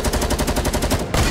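Rapid automatic gunfire in a building-and-shooting video game, a loud continuous burst of evenly spaced shots that breaks off briefly near the end and then resumes, with no talking.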